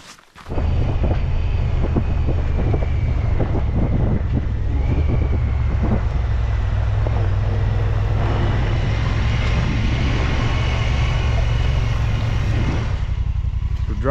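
A vehicle drives a snowy road during an Idaho black bear hunt, its engine giving a loud, steady rumble with buffeting wind noise throughout.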